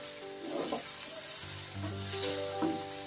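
Paneer do pyaza with softened tomato frying over a low-medium flame, a close, steady sizzle broken by a few spatula scrapes and stirring strokes across the pan.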